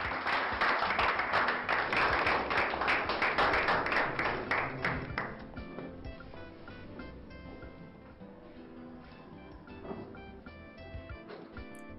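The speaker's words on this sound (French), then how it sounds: "Continuez d'applaudir s'il vous plaît" An audience applauds at an award ceremony with steady, dense clapping that is loud at first and gradually thins and softens toward the end, with scattered individual claps.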